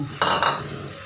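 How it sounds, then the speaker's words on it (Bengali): Ground kabuli chickpeas are stirred into onion, garlic, ginger and green chilli frying in a pan, making two quick loud scraping stirs over a soft ongoing sizzle. "এবার আমি বেটে রাখা কাবলি ছোলাটা দিয়ে দেব"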